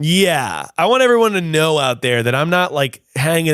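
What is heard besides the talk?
No everyday noises stand out.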